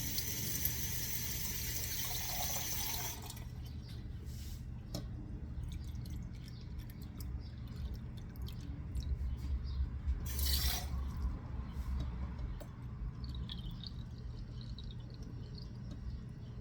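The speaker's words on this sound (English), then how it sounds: "Now you need 3/4 of a cup of cold water." Cold water runs steadily from a kitchen tap into a measuring cup while a ham and potato salad is being made, a soft, even hiss with faint drips near the middle, close by and alone.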